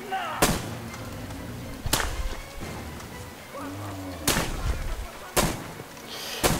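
Sharp, loud gunshots from Metro Exodus crack out one at a time at irregular intervals, about five in all, with quieter rumbling game sounds in between.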